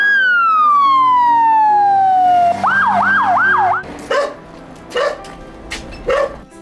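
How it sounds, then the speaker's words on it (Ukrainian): An ambulance races through Sumy on its way to a call. Its siren wails loud and close with a long falling tone, then switches to quick yelps, and a dog barks several times as the siren passes. "Швидка, яка напередодні повернулася з Києва, не стоїть без діла, вже їде на виклик у Сумах."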